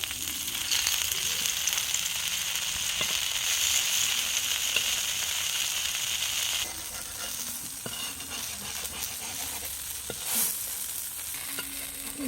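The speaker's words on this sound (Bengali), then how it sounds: "আমি এবারে অল্প একটু তেল দিয়ে পিঠেটিকে খুব ভালো করে ভেজে নেব।" Palm-fruit patishapta pitha frying in a little oil in a pan, a steady close sizzle and crackle that drops a little quieter midway and carries on with small stirring knocks, with no talk over it.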